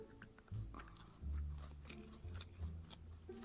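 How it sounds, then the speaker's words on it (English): Crunchy biting and chewing during a mukbang eating session: several close, loud bites land in an uneven rhythm, with moist mouth noises between them and no talking. "this sound's not as gross because it sounds like it's crunchy"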